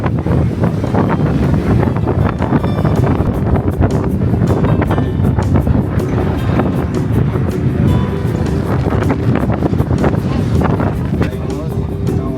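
Strong trade wind buffets the microphone on an open jeep touring Arikok National Park in Aruba, a loud, constant roaring rush that persists without letup, with voices faintly mixed in.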